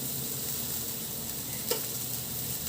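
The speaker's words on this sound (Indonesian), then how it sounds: "Ini sudah mendidih ya teman-teman" Steady bubbling and sizzling from a pot of prawn curry on the heat, a continuous soft hiss with one brief clink partway through.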